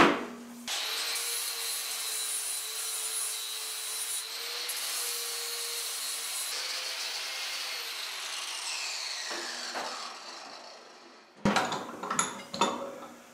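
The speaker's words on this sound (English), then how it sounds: "We're going to smooth it out with a flap wheel." A flap wheel grinds and smooths a forged steel tong ring, producing a steady, close, high abrasive whine with shifting pitch for about ten seconds, followed by a few sharp metallic clanks; no speech.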